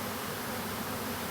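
A dense, steady buzzing of a swarm of honeybees being caught in a box, close and continuous, with no voices.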